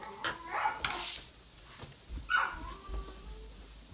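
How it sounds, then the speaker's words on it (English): A pet dog barks and whimpers indoors in a few short, fairly close bursts, with a quieter gap between them. "Go ahead and let my dog out, Sarah."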